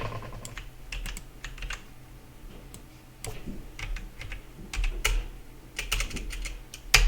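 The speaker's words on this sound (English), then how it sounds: "instead of typing this whole thing over here, simply type" Fingers type on a computer keyboard in quick, uneven bursts of close, crisp key clicks with short pauses between runs; no one speaks.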